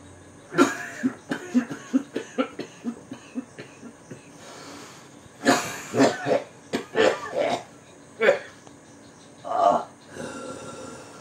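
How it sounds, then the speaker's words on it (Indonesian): A run of small, dry coughs and throat-clearing sounds from a half-drunk man after smoking, close and clipped, coming in a quick rhythmic series, then a pause, then a few heavier coughing bursts. "Batuk-batuk kecil."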